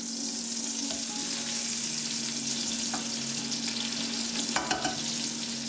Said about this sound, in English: Okay guys, we're going to turn the first steak over.